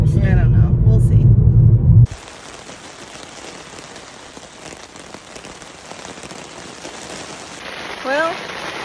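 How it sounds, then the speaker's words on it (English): Steady rain patters on a surface at a campsite in Yellowstone, a constant hiss after a brief loud rumble at the start, with a voice speaking briefly near the end. "raining again"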